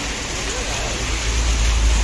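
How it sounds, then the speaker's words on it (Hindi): A heavy hailstorm in Faridabad, with large hailstones coming down, makes a loud, dense, unbroken roar that swells slightly toward the end, with someone talking beneath it. "बड़ी ज़बरदस्त यहाँ पे ओलों की बरसात हो रही है"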